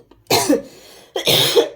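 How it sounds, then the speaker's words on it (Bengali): Two loud, close coughs from one person, a harsh burst followed by a second cough about a second later, with a brief quiet pause between them and no talking. "এই শুরু হলো কাশি"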